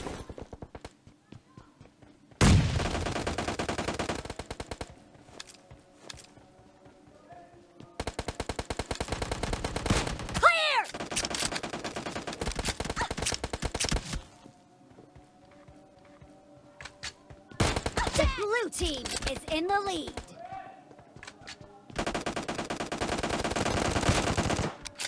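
Bursts of rapid gunfire from a Kar98 and an AKM in the PUBG Mobile video game, loud clusters of shots separated by short quiet gaps.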